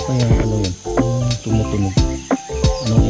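A bird locally called puk gives repeated short calls in a grassy farm field, a steady series of sharp chirps close by with no talking.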